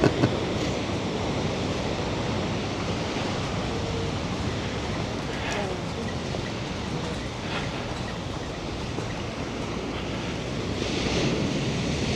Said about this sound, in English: Oh, some nice waves.